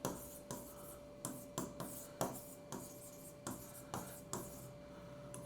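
Pen or chalk writing out standard formulae for differential equations by the inspection method, heard as a steady run of short scratchy strokes, roughly two per second, close and fairly quiet, with no talking.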